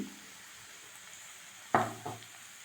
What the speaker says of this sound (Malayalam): മുളക് പൊടിയും നന്നായി മൂപ്പിച്ചെടുക്കുകയാണ്